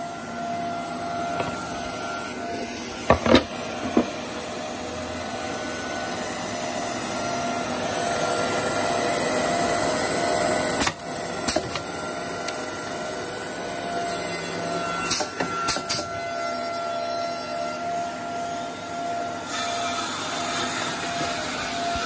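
An SCM Mini Max ME15 pre-glued edge bander runs with no extractor attached, feeding and trimming edging with a steady mechanical drone. Occasional sharp clicks and knocks cut through the hum.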